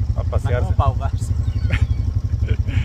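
A quad bike's engine rumbles low and continuously while riding through a creek in Arizona, with a person talking over the engine noise.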